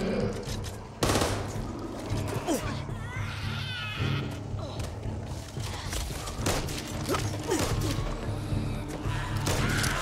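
Heavy gunfire in the co-op zombie shooter Back 4 Blood, dense overlapping bursts of automatic shots with sharp impacts and mechanical clatter, loud and continuous, with voices talking underneath.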